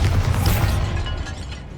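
Bombarda blasting spell in Hogwarts Legacy, a single loud booming explosion that starts at full strength and slowly rumbles away over a couple of seconds, with no voices.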